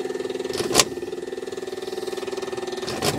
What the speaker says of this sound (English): I'm priming the engine with petrol.